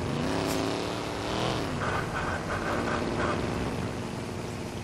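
A damaged car with a bad tyre driving in the Watch_Dogs video game, its engine droning steadily and loud throughout with a faint intermittent tonal chirp in the middle, no talking.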